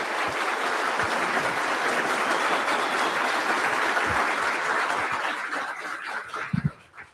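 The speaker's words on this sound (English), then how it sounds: "big round of applause for Dinesh real quick" An audience at a live debate claps and cheers in sustained applause that thins out and dies away at the end.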